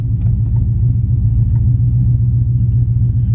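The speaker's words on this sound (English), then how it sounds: "I've been having some cam surging lately, like especially when I put in gear" A Ram pickup with an aftermarket cam idles in gear with a deep, loping rumble, its steady low throb pulsing unevenly as the idle surges, loud and close.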